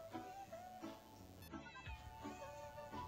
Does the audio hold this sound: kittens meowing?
yes